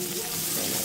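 Onion frying in a pan for a leftover fish in coconut milk dish: a brief, dense, steady sizzle, close and even, with no talk.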